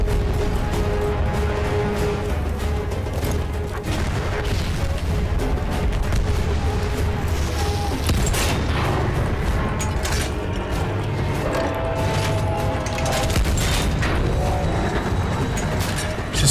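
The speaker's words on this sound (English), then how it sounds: "We try this cannon for a bit." A cannon fires in the Battlefield 1 video game amid mechanical clanking and booming explosions, dense and loud battle noise continuing without a break.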